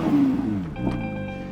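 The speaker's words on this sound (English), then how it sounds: "Let's do a little rev check." Engine of a car rises in a short rev, a throaty roar that climbs and falls back, then idles with a steady hum. It is close and fairly loud, and no one talks.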